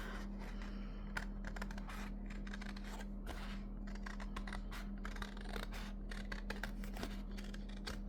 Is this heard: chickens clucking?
no